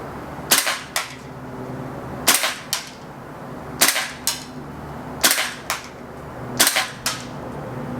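VFC HK416 gas blowback airsoft rifle firing five spaced single shots at a target, each a sharp crack followed by a quick bolt-cycling clack, evenly paced about every one and a half seconds.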